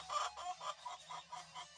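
Hens in a Turkish village coop without nest boxes cluck softly in a steady series of short, quiet calls, fairly close and without talk.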